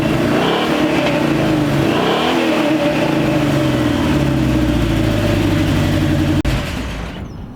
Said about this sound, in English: We're not gonna rev too much. But yeah, dude, it sounds good.